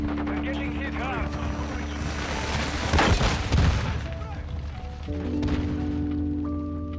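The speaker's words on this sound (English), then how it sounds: "Flashbangs, we got stuns." Flashbang stun grenades going off in Call of Duty MWII, a dense burst of loud bangs and crashing blasts that peaks mid-way, over steady game noise and music tones.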